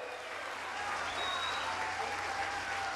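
A large outdoor crowd at a Transnordestina railway construction site in Ceará, Brazil, claps continuously, a dense and even roar of applause that swells slightly and holds steady, with faint voices mixed in.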